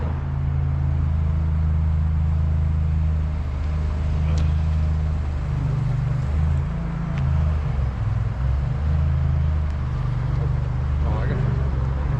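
Steady low rumble of road traffic near Port Clinton on the Appalachian Trail, a continuous loud drone of passing vehicles with a few faint clicks and rustles on top.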